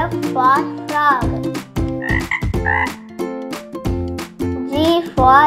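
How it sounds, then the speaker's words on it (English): A frog croaks loudly and close up in a quick, rhythmic series of repeated calls with no other sound. "F for frog."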